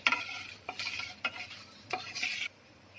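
Whole cumin, a dried red chili and two bay leaves are stirred in hot oil in a pan, with soft sizzling broken by several scraping spoon strokes, close and fairly quiet.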